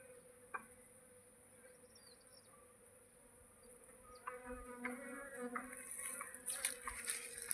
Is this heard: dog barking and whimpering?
no